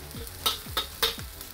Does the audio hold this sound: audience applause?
no